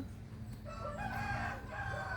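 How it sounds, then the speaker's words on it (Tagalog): Chickens cluck and a rooster crows nearby, with a steady low rumble of background noise underneath. "Maingay naman ang mga manok na to"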